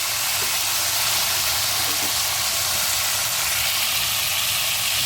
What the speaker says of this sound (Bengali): এইভাবে প্রত্যেকটা পটল আমি ভেজে নেব